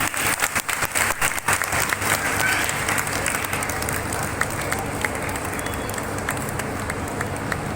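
Audience clapping at a devotional bhajan and religious discourse gathering, a dense, sustained burst of applause with sharper, louder claps at the start settling into an even wash, close and filling the space.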